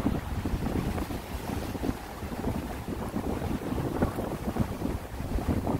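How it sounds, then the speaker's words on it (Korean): High waves crash against the breakwater at Naksan port, a continuous heavy roar of surf buffeted by strong wind noise on the microphone, with no voices. "와서 부딪히는 파도는 꽤 높습니다."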